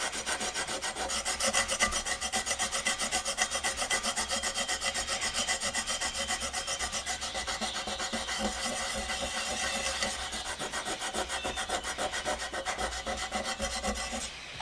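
A Scotch-Brite pad scrubbing gum cutter and old coating off a steel square, a continuous fast back-and-forth rasping, close and steady throughout, with no talking.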